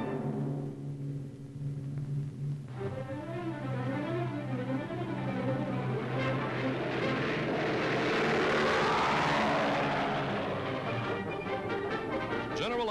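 Propeller airplane evacuating wounded soldiers by air, a steady droning engine roar with wavering pitch that swells louder through the middle, heard on an old wartime newsreel soundtrack.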